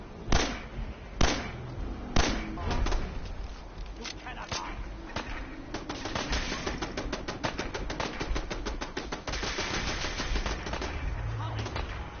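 Video game gunfire aimed at the player: a few sharp, loud shots ring out early, then dense rapid bursts of automatic fire crackle on steadily, close and continuous.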